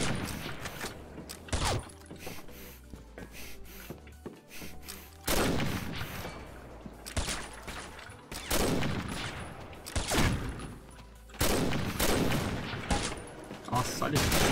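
Gunfire in the online shooter Combat Arms: sharp bursts of shots hit at intervals, loud against quieter mechanical game sounds in between.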